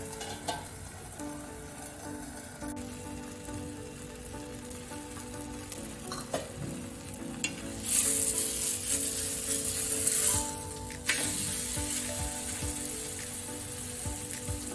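Guava thalipeeth frying in oil on a pan, with a continuous close sizzle, occasional clatters, and a brighter, louder crackling burst around the middle before the sound settles back to steady frying; there is no speech.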